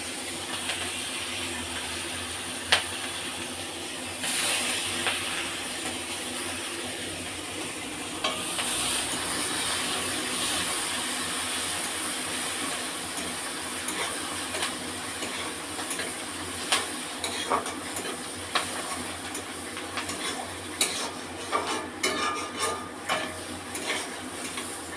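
Chopped onions with black cumin seeds sizzling steadily in hot oil in a pan for katla fish curry, with scraping and clinking stirring strokes that grow more frequent toward the end. No talking.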